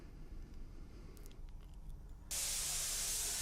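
An airbrush sprays Auto Air Colors base coat onto practice helmets, a steady close hiss that starts abruptly partway through after a quiet lead-in.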